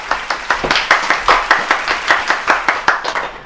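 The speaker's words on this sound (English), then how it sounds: "Let's give a round of applause for Dakota." A studio audience claps for a junior guest chef on a cooking show, a small group of hands producing distinct, fairly loud and close rhythmic claps that continue steadily through.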